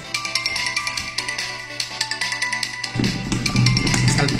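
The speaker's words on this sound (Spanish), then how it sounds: "Cuando le suena el teléfono a la profesora" A mobile phone ringtone goes off in a classroom: a bright, melodic tune of quick repeating notes over a steady low hum, turning fuller and louder with extra low noise in its last second and a half.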